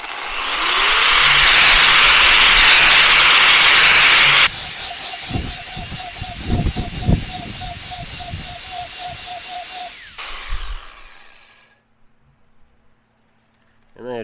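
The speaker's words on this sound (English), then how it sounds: "I take a grinder. It's called a flap wheel." A grinder with a flap wheel whines and hisses loudly against a steel mower blade while sharpening it for about ten seconds, with a tonal ringing mid-way, then spins down into quiet.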